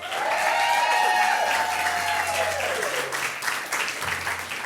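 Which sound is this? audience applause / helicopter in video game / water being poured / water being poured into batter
audience applause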